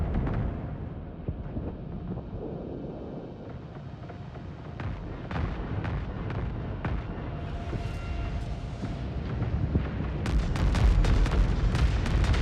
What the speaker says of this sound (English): I'm doing my classic torpedo thing.